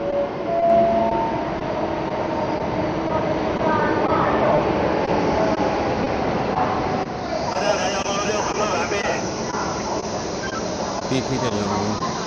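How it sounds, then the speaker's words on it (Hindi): High-speed bullet train pulling in at a station platform in China, a steady rumbling roar with rising squeal and hiss as it arrives, with people talking nearby. "सो हमारी ट्रेन आ गई है।"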